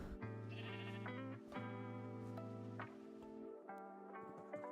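Minecraft sheep bleats repeat one after another, close and loud, each a buzzy, wavering baa with a clear pitch; no talking during the calls.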